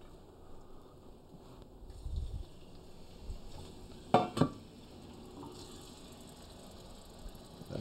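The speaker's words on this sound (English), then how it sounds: "We've got a pan that's already hot, ready to go. And Shannon is going to pan fry them quickly." Lamb pieces pan frying quickly in an already hot pan, giving a quiet steady sizzle with a few sharp clinks and stirring scrapes partway through.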